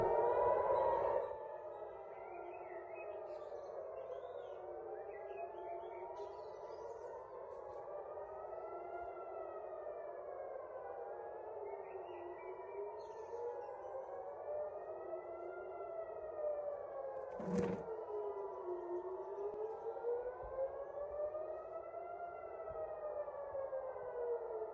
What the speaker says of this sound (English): So I'm on my porch, and then the siren started.